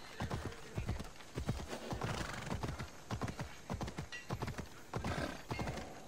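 Horse hooves clip-clopping in the video game Assassin's Creed Odyssey, a brisk, regular run of hoofbeats with an occasional whinny, close and prominent.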